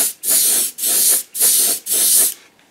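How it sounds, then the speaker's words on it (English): An aerosol spray can lays paint onto a 1/72 Airfix Vulcan bomber model in four loud, close hissing bursts of roughly half a second each, separated by brief gaps, the last one tapering off. "when we're spraying this down, we're literally going to be going so it looks wet"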